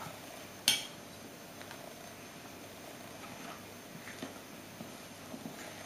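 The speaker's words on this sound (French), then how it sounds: "Mélangez à la cuillère" A spoon stirs bread dough with warm water in a bowl, one sharp clink against the bowl followed by quiet, soft scraping and occasional light taps.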